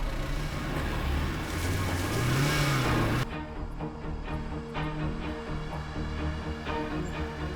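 A car drives in and accelerates, its engine rising in a revving climb over the first three seconds before cutting abruptly to a quieter scene with a lower idle and ambient noise.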